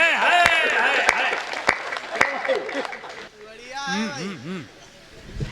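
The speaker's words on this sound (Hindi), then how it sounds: "समझ गए हो तो तालियां बजाओ।" An audience claps at a Hindi comic poetry gathering, with sharp irregular claps through the first few seconds under loud, lively crowd voices. The clapping thins out as a single voice carries on talking.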